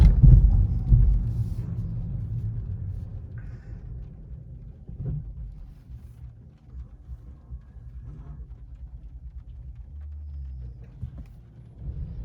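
A 2021 VW Golf 8 R-Line hybrid accelerates in eco mode, with a low, smooth engine and road rumble that swells early and then settles into a quiet, steady drone heard from inside the cabin.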